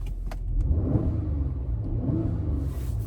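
A Mercedes-AMG GLC 43 with a 3.0 V6 biturbo engine, not yet warmed up, idles with a smooth, steady low rumble and a faint whir, heard close and continuously with no talking.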